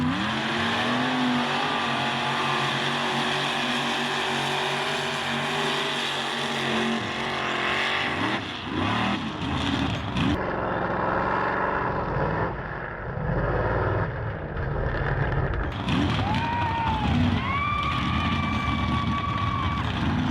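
Chevy and Ford mega trucks drag race in 2019, their loud engines roaring and revving continuously as they accelerate past, with the pitch rising and shifting through gear changes and the noise of a crowd faintly underneath.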